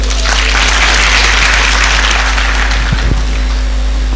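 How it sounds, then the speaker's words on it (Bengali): Audience applause welcoming a guest named Nixon at a BCS exam preparation talk, a steady broadband wash of clapping that holds at an even level throughout, with a low hum underneath. "আমরা একটু হাততালি দেই।"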